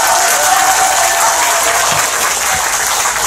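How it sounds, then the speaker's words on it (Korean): Loud, dense applause from an audience at a Korean political rally, a steady wash of clapping that fills the whole stretch without a break and with no talk over it. "여러분 박수 부탁드립니다."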